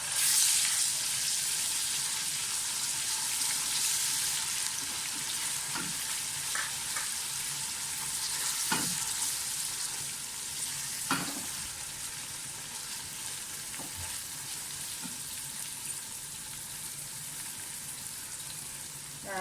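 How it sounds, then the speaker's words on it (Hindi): Onions frying in oil with garlic-ginger paste for a chappan kaddu sabzi: a steady, close sizzle and hiss runs throughout, broken by occasional spatula scrapes and stirring strokes, with no talking. "प्याज फ्राई हो जाए तो लहसुन अदरक का पेस्ट डाल दें।"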